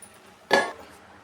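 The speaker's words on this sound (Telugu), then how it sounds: "నెయ్యి వేసుకొని ఒక 5 నిమిషాలు మూత పెడదాం." A metal lid is set down on a pot of bagara rice cooking with ghee, giving one short clinking clatter that rings briefly, close by and alone in a quiet kitchen.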